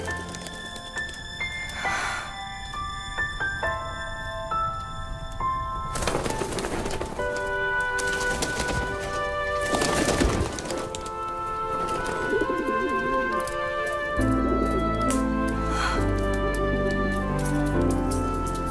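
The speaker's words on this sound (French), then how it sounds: "Des gentils pigeons, merci." Pigeons coo softly in a fairy-tale scene, their calls repeating in short bursts over a steady bed of orchestral music, fairly close and moderately loud.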